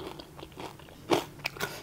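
Crispy Thai pork crackling bitten into, a few sharp crunches close to the mic, the loudest coming in one strong burst followed by two smaller crisp snaps.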